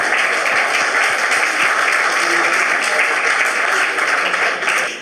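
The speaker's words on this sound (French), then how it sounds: "on peut les applaudir parce que c'est super ce qu'ils ont fait" A crowd applauds steadily at a workshop, dense clapping filling the room for several seconds before starting to fade at the end.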